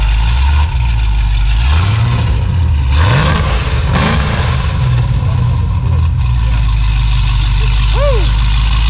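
A 2018 Mustang GT V8 fitted with headers and intake, running E85, idles loud and close, then revs in a few rising and falling sweeps with a deep, steady rumble; people talk briefly over it.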